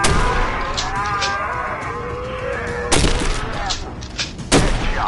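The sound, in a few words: M870 shotgun firing in a video game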